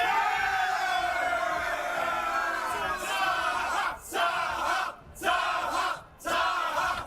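A large crowd of soldiers cheers and roars in Spellforce 3 before a final battle, a dense, sustained mass of voices with brief swells and dips, loud and close throughout.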